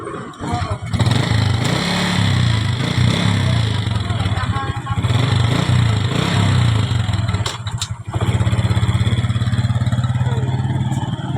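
A motorcycle engine runs steadily close by, with a low throbbing drone that swells and eases, a brief dip near the middle before it picks up again, under some clatter.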